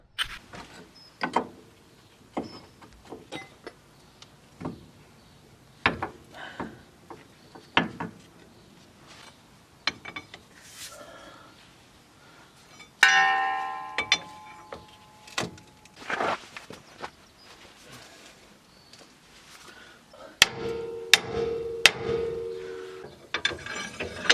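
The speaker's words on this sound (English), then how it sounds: "So I'll try pushing this out with the vise first." A vise is cranked to press a ball joint out of a Nissan Navara D40 suspension arm, giving irregular metallic clicks, ratcheting and creaks, with a few sharper clanks and scrapes close by.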